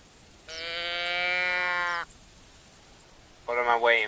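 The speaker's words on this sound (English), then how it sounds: "That's a sheep. That is not a deer." A long, wavering sheep bleat in the hunting video game The Hunter, then a shorter second bleat a moment later, with quiet background hiss between.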